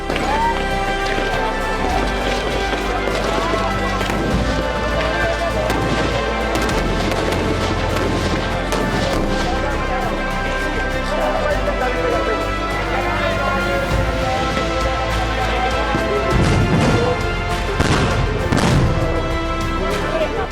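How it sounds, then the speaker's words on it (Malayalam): Police tear gas shells fired by drones at a farmers' protest on the Shambhu border: a loud, dense outdoor din of crowd noise and rumbling, with scattered sharp bangs and a voice heard through the commotion. "ഡ്രോൺ ഉപയോഗിച്ച് വ്യാപകമായ കണ്ണീർവാതക പ്രയോഗമാണ് ഇപ്പോഴും ശംഭു അതിർത്തിയിൽ നടക്കുന്നത്"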